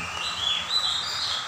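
An oriental magpie-robin (kacer) songbird at a bird seller's in Calang, Aceh, sings a continuous, bright, warbling song of high chirps and whistles, close and fairly loud, with no talking.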